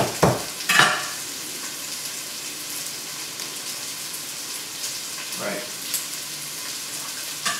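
Garlic sizzling in a frying pan during home meal prep, a steady faint hiss running throughout with a few louder clatters near the start and a brief spoken word.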